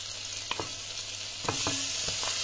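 Small smoked lardons fry in butter in a pot, a soft steady sizzle broken by a few clinks and scrapes of stirring.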